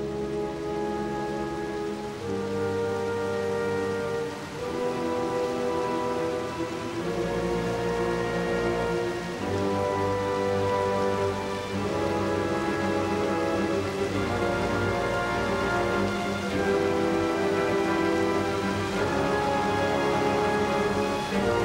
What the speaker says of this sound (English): After 9 months of drought, at last the rains have arrived.